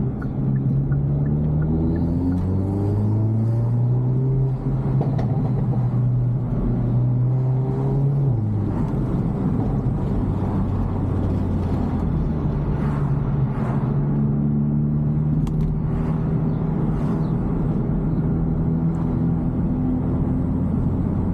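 A Hyundai Elantra N on the road, its engine droning loud and close as turbo whine rises and falls with the revs through several gear changes, no talking.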